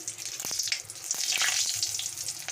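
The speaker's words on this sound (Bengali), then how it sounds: "আমার ফোড়নটা ভাজা হয়ে গেছে" Whole spices frying in hot oil for a Bengali doi katla tempering: cardamom pods, cloves, dried red chillies and bay leaves. A continuous bright sizzle with a few short crackles and pops, close and steady, no voices.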